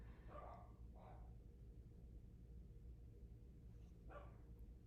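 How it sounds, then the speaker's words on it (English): A few short dog barks ring out at a distance, two close together early on and another a few seconds later, over a steady low background hum. "Really don't know why they're barking."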